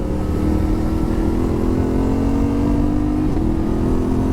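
A Yamaha Ténéré 700 motorcycle (2025) pulls hard under steady acceleration, its engine note droning loud and close with a rising pitch as quickshifter gear changes come without clutch pauses.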